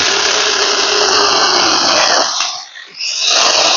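A cordless mini chainsaw bought from AliExpress cuts through wood with a loud, steady buzzing whine, briefly dropping off near the end before it picks up again at full speed.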